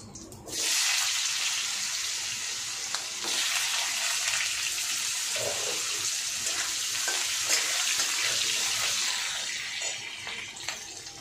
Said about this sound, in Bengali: দেখো জিরেটা ভাজা হয়ে গেছে, এবার আমি আলুগুলো দিয়ে দেবো।